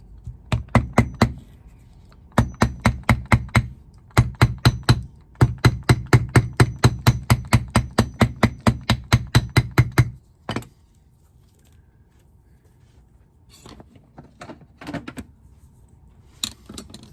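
A small hammer taps in quick, sharp bursts on a varsity jacket, evenly paced runs separated by short pauses, then a few scattered taps toward the end.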